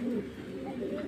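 Pigeons at a pigeon farm cooing with soft, repeated low calls close by, while a person talks over them.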